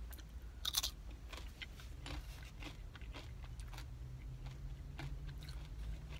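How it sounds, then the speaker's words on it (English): Seasoned tortilla chips from a Taco Bell loaded nacho taco are crunched and chewed up close, a sharp bite followed by steady, soft chewing against a low hum. "Let's try a chip to see if it..."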